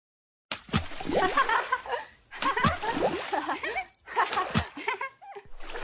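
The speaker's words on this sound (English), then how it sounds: "And they are splashing water all around." Children splash water in a bath in three lively bursts of sloshing and splattering, close and fairly loud, separated by short pauses, with giggles and laughter mixed in.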